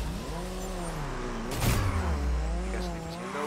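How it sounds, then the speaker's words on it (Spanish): Cars accelerate and crash into each other in the arena combat game Destruction AllStars, engines revving steadily with a heavy impact thud midway and tire noise, loud and continuous with no talking. "Aceleramos, nos chocamos en el terreno."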